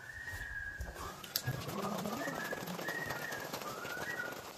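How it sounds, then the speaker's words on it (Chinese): Swallows circle overhead inside a Guizhou cave, giving thin high whistling calls that repeat in short bursts over steady windy background rumble, fairly distant and faint. "头顶上好多的燕子在我的头上盘旋飞舞"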